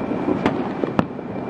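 New Year 2017–2018 fireworks explode from a building in Jakarta, two sharp, distant bangs about half a second apart over a steady crackling, rumbling backdrop.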